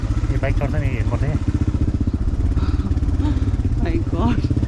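Motorcycle engine labouring up a rocky trail, a steady, close, throbbing drone throughout, with people talking over it.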